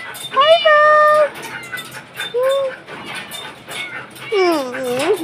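A dog whines in high, wavering cries, three separate bursts with short pauses between, close by.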